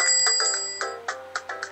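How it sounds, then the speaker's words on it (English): Electronic doorbell chime in the restaurant video game Papa's Cupcakeria, a bright sequence of several quick ringing tones that ring out and decay, clear and alone. "Doorbell is important"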